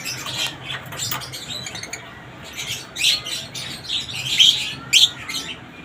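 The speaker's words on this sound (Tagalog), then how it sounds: "Ito yung mga ibon natin na yan." Parrots in a fly cage of an aviary, blue opaline dilute and green dilute mutations, keep up a busy chatter of chirps and tweets with a few sharper, louder squawks near the end, and no voices.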